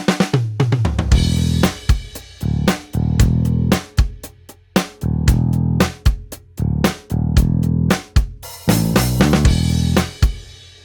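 A drum kit and bass guitar play a steady groove, punchy kick and snare hits with a bass line underneath, loud and close; drums from Superior Drummer 3.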